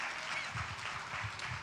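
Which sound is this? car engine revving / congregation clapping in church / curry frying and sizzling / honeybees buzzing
congregation clapping in church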